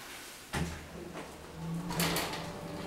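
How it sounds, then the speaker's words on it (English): An Otis hydraulic elevator door in a Bloomingdale's store slides shut with a sudden soft thump, followed by a low mechanical hum and a faint rolling rumble as it settles, heard close and quiet. "Door close button works."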